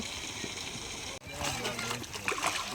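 Water splashing and sloshing in a Sundarbans pond enclosure while large crabs are caught by hand, with a steady wash of noise and a voice talking over it.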